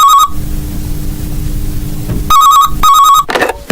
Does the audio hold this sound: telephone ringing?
yes